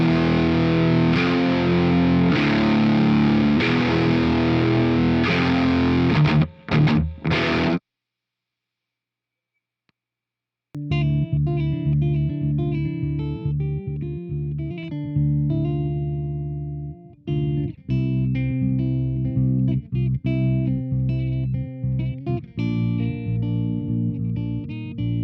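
Bassy, pre-driven electric guitar tone through a KHDK Annihilator II pedal, loud and distorted with sustained chords; a brief silent gap splits two played passages.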